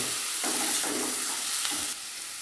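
Vegetables tipped into oil tempered with dried chilli and panch phoron, a loud bright sizzle that swells as they hit the pan, with a few stirring scrapes before it settles to a steadier hiss.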